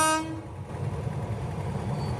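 A train at the Dolma gate level crossing sounds a short horn blast, then its steady, loud rumble rolls on without a break as it passes close by.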